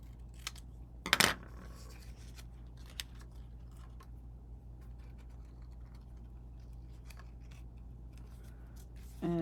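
Scissors make a quick snip through white ribbon while crafting a mini scrapbook album, one short crisp cut near the start, then a quiet room with faint small handling clicks.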